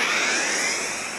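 A spaceship warp engine in the space game Second Galaxy gives a loud, steady roaring rush like a jet, with a rising whine on top. It fades slightly toward the end and there is no talking.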